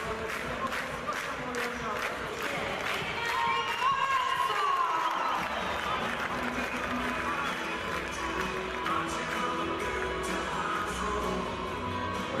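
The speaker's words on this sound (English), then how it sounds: "And that gets this hometown crowd pumped up." A hometown ice hockey crowd in Luleå cheers steadily after a goal against Brynäs, a broad continuous roar in the arena beneath a commentator's talk.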